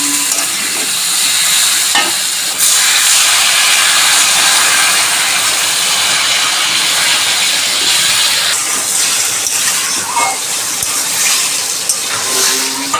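Fried potatoes and pointed gourd being stirred into a spice mix in hot oil, giving a loud, steady sizzle with occasional scraping stir sounds throughout.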